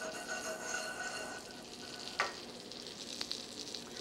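Foie gras seared in a hot pan gives a steady, moderately loud sizzle, with a brief clink partway through and no talking.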